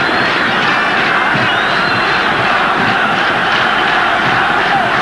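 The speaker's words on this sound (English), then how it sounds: "Crowd roar them on." A packed stadium crowd at the 1994 African Cup of Nations final between Nigeria and Zambia roars loudly and continuously, a dense wall of chanting and cheering voices with rising shouts throughout.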